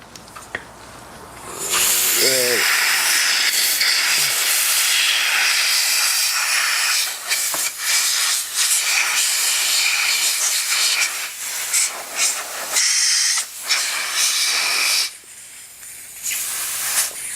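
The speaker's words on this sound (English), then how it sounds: "this one we need to blow dry now." Compressed air hisses in a long, loud continuous blast while blowing dry rinsed Shimano XT brake lever parts, with brief pauses and bursts near the end.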